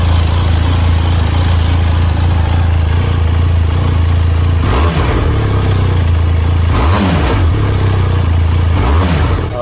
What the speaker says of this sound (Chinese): 特别是当你拉高转的时候， 它的声浪特别浑厚